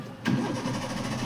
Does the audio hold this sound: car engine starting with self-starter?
yes